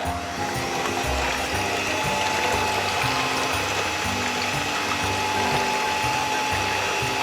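An electric mixer whipping eggs with sugar, a loud, steady whirring drone with a rattling mechanical edge that runs unbroken throughout, with no talk.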